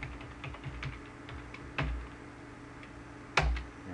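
Root password typed on a computer keyboard, a run of light, quick key clicks with two louder thumping keystrokes standing out, close and quiet with no voices.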